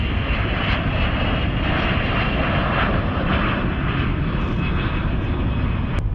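A KC-135 refueling tanker flying touch-and-go circuits over an airfield sends a steady, loud, broadband engine roar that holds constant throughout, with no talking.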